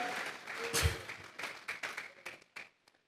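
A church congregation clapping hands in a quick, uneven rhythm, moderately close and fading toward the end, with no talk over it.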